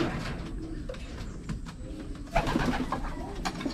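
Young racing pigeons coo in a loft during training, soft repeated calls over a busy background of wing flutters and shuffling birds, fairly close.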